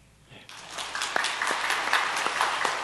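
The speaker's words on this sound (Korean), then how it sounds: "잠시 일어나셔서 인사하실 때 박수로 환영해 주시겠습니다" A church congregation applauds to welcome missionaries, the clapping building quickly to a steady, dense patter across a large room.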